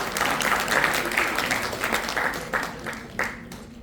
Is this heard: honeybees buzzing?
no